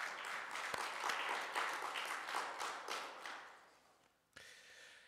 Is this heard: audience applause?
yes